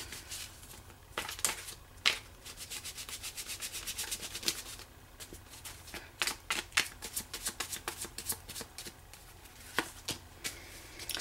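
Tarot cards are shuffled by hand in a fast riffling run of soft papery flicks and rubs, close and quiet, with brief pauses between bursts and no voices.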